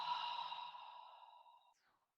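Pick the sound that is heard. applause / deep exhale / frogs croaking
deep exhale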